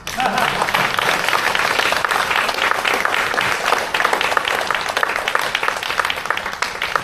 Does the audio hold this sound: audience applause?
yes